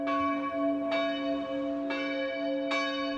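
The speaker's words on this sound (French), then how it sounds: "Les cloches sonnent, pourtant ce lieu de culte est fermé depuis début décembre." Village church bells ring near and clear, with three distinct strikes spaced about a second apart and a long ringing hum sustained between them.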